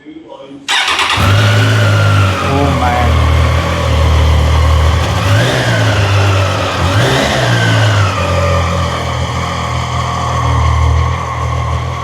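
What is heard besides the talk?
Triumph Daytona 660 motorcycle cold start and exhaust revving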